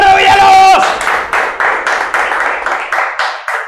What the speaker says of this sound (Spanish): Aplauso para Leonardo Villalobos